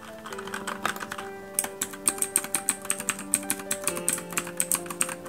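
Keys clatter on a Keychron K6 68-key hot-swap wireless mechanical keyboard fitted with red switches and blue switches on the arrow keys, a quick run of crisp, clicky, evenly spaced taps up close with a faint tonal hum underneath.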